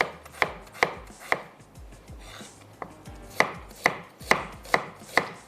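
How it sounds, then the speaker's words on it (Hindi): A knife chops an onion steadily on a cutting board, sharp regular knocks about twice a second with a brief pause midway, close and clear with no talking. "ये जो हमारे पास प्याज है इसको मैं थोड़ा सा रफली स्लाइस या चॉप कर लेते हैं"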